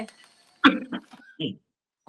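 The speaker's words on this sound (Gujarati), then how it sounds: "ખાંસી આવી ગઈ, સોરી, માફ કરશો" A couple of short, sharp coughs with a throat-clearing sound, close and fairly loud, separated by brief silence.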